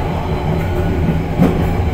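Steady rumble and rattle heard from inside a moving KA Pangrango passenger train between Bogor and Sukabumi, a continuous low roll with faint clacking, no voices.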